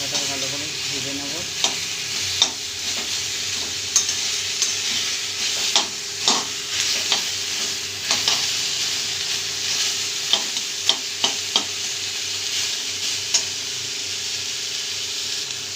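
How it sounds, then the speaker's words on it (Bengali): Spice paste with garlic paste and chopped tomato fries in a pan for a rui fish curry, giving a steady sizzle broken by sharp, irregular scrapes and taps of a spatula as it is stirred. "ভালো করে মশলাটা ভালো করে ভেজে নেব।"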